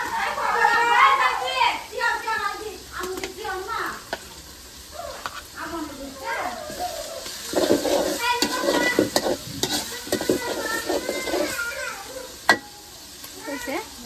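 Garlic and ginger sizzle in a hot pan while being stirred, a crackling fry under frequent talking.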